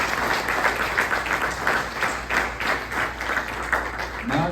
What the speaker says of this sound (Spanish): ¿Cuánto le dan un aplauso a Jesús por eso?